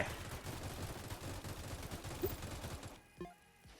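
Minigun tower firing in the Roblox Tower Defense game, a steady rapid rattle of gunfire for about three seconds, moderately loud, then cutting off into quieter game sound.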